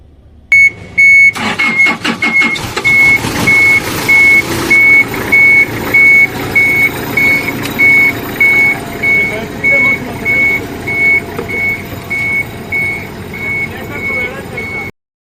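A truck engine is jump-started from another battery, catching and settling into a loud, steady mid-pitched idle while a reversing beeper chirps in a regular rhythm throughout, with people talking nearby.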